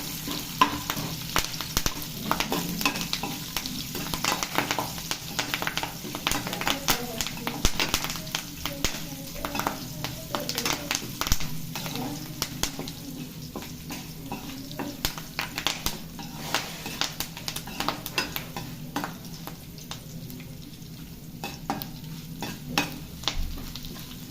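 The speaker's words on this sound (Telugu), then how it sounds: "కరివేపాకు వెల్లుల్లి కూడా వేసి బాగా వేయించాలి" Curry leaves and garlic fry in hot oil in a pan for a brinjal chutney, a continuous close sizzle broken by frequent scraping stirs and light clinks of the utensil.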